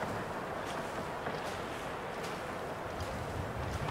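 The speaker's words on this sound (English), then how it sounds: "A bit windy, though." Steady, loud wind blowing across an open snowy landscape in the survival game The Long Dark, a continuous broadband rush with gentle gusts and no other sounds.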